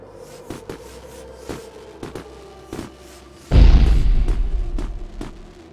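Fireworks explode in the video game Beacon Pines: a series of sharp distant pops and thumps, then one heavy close boom that rolls into a long, slowly fading rumble.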